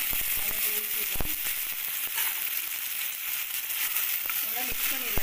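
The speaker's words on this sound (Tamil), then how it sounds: "நல்லா பொரிஞ்சு வச்சு நமக்கு சின்ன வெங்காயம் போட்டு வதக்கிடுவோம்." Small onions sautéing in hot oil in a pan for a lentil dumpling curry, a steady close sizzle and crackle with occasional stirring scrapes throughout.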